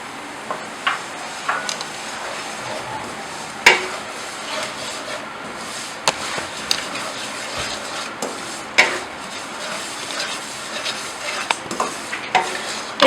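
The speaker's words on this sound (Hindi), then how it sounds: "इसी गरम ऑयल में जो है हम सूजी डाल देंगे" Semolina roasts in hot oil for sweet halwa, stirred with a spoon that scrapes and taps the pan in irregular knocks over a faint low sizzle, close by.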